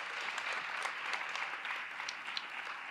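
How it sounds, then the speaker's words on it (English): Audience applause at an annual legacy gala, a steady wash of clapping hands held at an even level for the whole stretch, with a few sharper individual claps poking through and no talking. "Let's give her a round of applause."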